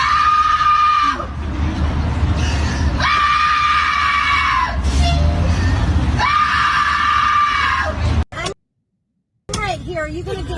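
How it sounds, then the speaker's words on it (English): A passenger screams aboard an aircraft, long sustained shrieks repeated in several loud bursts with brief breaks, close and harsh, with shouting voices mixed in. "are you going to get off the aircraft or are you going to sit there and scream?"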